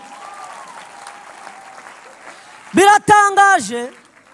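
Audience applause breaks out in short loud bursts after a stretch of quiet background at a gathering, following a low hum, with a voice speaking alongside.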